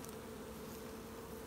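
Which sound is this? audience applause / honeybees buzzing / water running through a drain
honeybees buzzing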